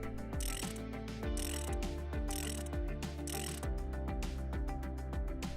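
A ratchet on a Ford EcoBlue diesel injector extractor clicks steadily as the force screw nut is tightened, a close, rapid run of metallic pawl clicks repeating in even strokes, with no voices.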